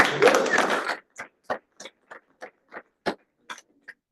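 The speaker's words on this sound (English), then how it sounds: "So Let's give her a round of applause." Applause at a team meeting, a brief burst of clapping from a small audience that quickly thins out into a few scattered, isolated claps.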